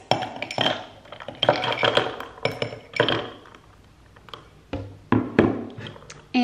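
Ice clinks and clatters into an iced coffee glass made with a Nespresso Vertuo, several sharp glassy knocks and taps in uneven bursts, close and fairly loud, with quiet gaps between.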